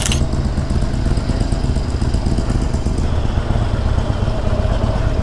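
A Harley-Davidson 48 motorcycle runs steadily close by, its engine a continuous loud, rumbling drone with a rough, pulsing texture and wind noise throughout.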